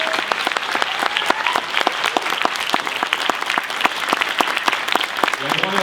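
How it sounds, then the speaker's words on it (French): Steady, dense applause from a film festival audience, many hands clapping continuously and loudly throughout, with no voices standing out. "Merci. Les applaudissements."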